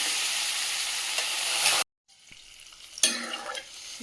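Water poured into a pan of frying eggplant and potato curry with local fish, loud steady sizzling that cuts out abruptly, then returns quieter with a sharp burst and bubbling.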